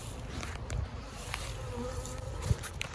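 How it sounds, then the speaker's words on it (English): Honey bees buzz steadily around an open hive during a beginner's first inspection, a continuous low drone with a few closer passes and a soft thump near the end. "We do have a bee on you."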